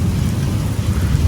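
Rain falls outside a doorway in a green garden, a steady, dense hiss with a low rumbling undertone, close and continuous, with no one talking.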